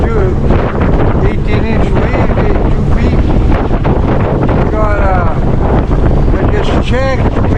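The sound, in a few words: wind on a motor-powered sailboat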